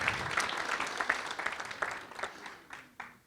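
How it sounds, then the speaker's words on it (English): Audience applause at an evening agricultural Hall of Fame event in the Mid-Columbia region as a speaker comes to the stage, dense clapping that thins out toward the end, with a few last claps. "Let's give him a round of applause."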